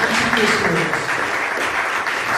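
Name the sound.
audience applause for a panel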